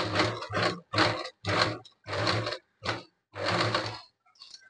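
Domestic sewing machine stitching a fabric mobile pouch, running slowly in about seven short whirring bursts separated by brief pauses, close and fairly loud, with no talking.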